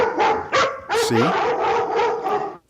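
A dog barks repeatedly nearby, a loud run of quick, sharp barks with a higher yelp in the middle, trailing off at the end.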